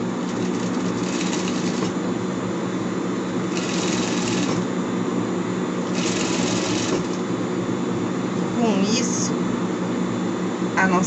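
A sewing machine topstitches a seam to fold down the piping on a pet shirt. Four short runs of fast stitching rattle up over a constant background hum, each stopping after a second or so.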